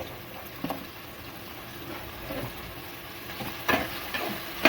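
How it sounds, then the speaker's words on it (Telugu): Chopped onions and green chillies fry in oil in a pan with a low crackling sizzle, punctuated by a few louder stirring scrapes and clicks toward the end, close and alone without speech. "ఓ పాన్లో ముందు ఉల్లిపాయలు వేయించుకోవాలి."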